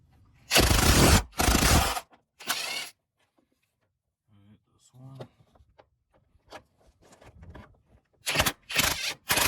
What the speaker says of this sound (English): I got a swivel with a 10 mil, and I'm using my impact to make this a whole lot quicker.